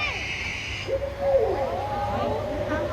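A single owl call with falling hoot-like tones rises over steady background murmur at a bird show in Jurong Bird Park, Singapore, moderately near, with faint voices around.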